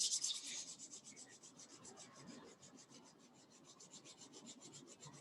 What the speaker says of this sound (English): Now let's bring the hands together. Rub the palms as much as you can.